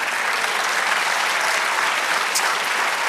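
A church congregation applauding, dense continuous clapping close and loud, with no voices over it.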